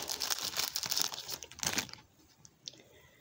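A sealed 1997 Pinnacle Inscriptions football card pack is torn open up close, with loud crinkling and ripping foil for about two seconds, then a few faint rustles as the wrapper settles.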